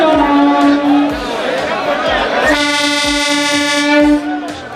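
A MEMU passenger train at Sogriya railway station in Kota sounds sustained horn blasts, one long tone then a second, over rhythmic clacking of wheels on rail joints, close and loud, with crowd murmur beneath.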